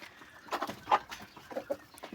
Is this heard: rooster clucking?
yes